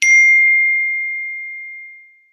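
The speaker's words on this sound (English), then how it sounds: "some group text is dinging and dinging and dinging and making everything worse" A phone's group text notification rings out as one bright ding with a metallic edge, then fades slowly over about two seconds, alone in a quiet room.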